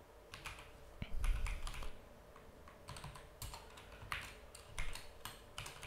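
Typing on a computer keyboard during ESP32 Wi-Fi setup, quick irregular clusters of light key clicks, close and fairly quiet with no talk.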